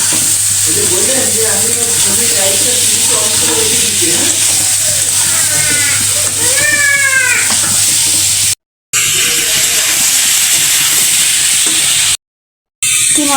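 Cauliflower and potato stir-fry in a pan with a loud, steady sizzle and scraping stirs close by, broken by two brief dropouts.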